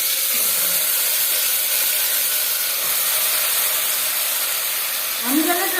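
Marinated mutton meets hot mustard oil in a pan, making a loud, continuous hiss and sizzle that stays steady, with a brief clatter near the end.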